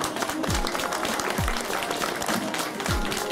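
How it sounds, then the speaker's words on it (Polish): An audience claps steadily for children receiving awards at a kindergarten nativity play, continuous applause with a few low thumps mixed in. "wielkie brawa"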